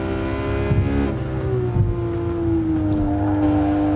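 A Porsche GT3 RS engine revs in the video game Gran Turismo Sport, a steady high mechanical whine that climbs and then sags slightly while holding a strong, close, continuous tone.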